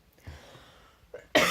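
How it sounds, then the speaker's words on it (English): A single sharp cough, close and loud, bursting out at the end after a moment of quiet breathing. "I have a lingering cough, which is super annoying."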